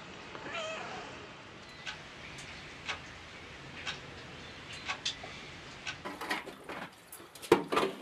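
Cat meowing indoors in several short, fairly close mews spread across the clip, with light clicking and ticking sounds growing busier toward the end.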